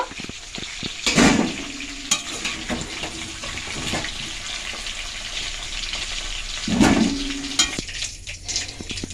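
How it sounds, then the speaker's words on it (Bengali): Potatoes frying in hot mustard oil for Kashmiri aloo dum, a steady close sizzle with a couple of louder bursts of stirring or bubbling, no talk. "আলুগুলো এবার ভেজে নেব লাল লাল করে"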